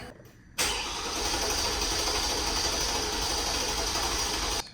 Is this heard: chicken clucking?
no